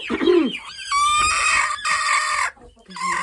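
Hens clucking and squawking up close, with one drawn-out crowing-like call, while being carried to the coop in the dark, loud and agitated in bursts with brief pauses.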